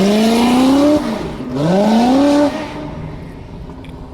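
A race car's engine revving hard through full pulls on a dyno, running on small 35 tires; two loud, close wide-open-throttle sweeps climb in pitch, each cut off sharply, then the engine settles to a rough, rumbling idle.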